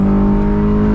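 A Honda S2000's 240-horsepower four-cylinder engine holds a loud, steady high-revving drone with a strong tonal hum, heard close and alone without any talking.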